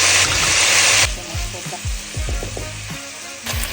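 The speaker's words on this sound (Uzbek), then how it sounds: "Kartoshkalar bilan sabzilarni ham sovurdim." Potatoes and carrots frying in hot oil, a loud hiss for the first second that settles into steady sizzling with repeated scraping stirs and clinks, then a louder hiss near the end.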